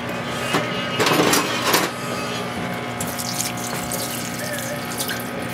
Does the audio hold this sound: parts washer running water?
yes